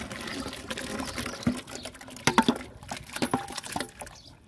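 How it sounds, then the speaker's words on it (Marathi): Water boiling vigorously in a pot of cooking sorghum grits, bubbling and gurgling with irregular pops and splashes, close and fairly lively. "बघा कसलं पाणी खळखळून उकळतंय"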